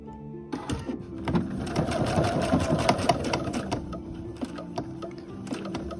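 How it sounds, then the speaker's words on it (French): A sewing machine stitches along a tote bag strap, running steadily at close range for about five seconds with a fast mechanical needle rhythm and no talking. "je vais commencer par le haut de ma sangle et je vais venir coudre"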